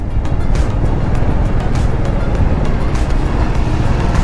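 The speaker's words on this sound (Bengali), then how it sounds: "দারুণ লাগছে বাইক চালাতে এই ওয়েদারে" A motorbike being ridden on the way to Benapur beach in cool winter weather, heard as a loud, steady rumble of engine and wind noise throughout, with no pauses.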